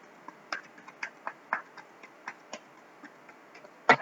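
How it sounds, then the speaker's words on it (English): Tarot cards shuffled by hand, giving a quiet run of soft, crisp taps and flicks at a fairly even pace, ending in one sharper snap, with no talking. "I'm going to shuffle here for Libra."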